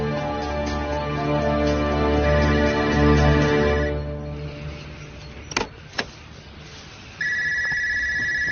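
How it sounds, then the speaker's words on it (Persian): A telephone rings with repeated electronic tones over a steady vehicle-like hum, then the ringing breaks off with a couple of sharp clicks before a new sustained tone begins. "با تلفن جواب ده"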